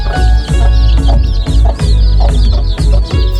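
Rhythmic clucking from a desi hen with about 34 mixed Sonali and desi chicks, repeated in short bursts over a steady low background, with faint higher peeps mixed in.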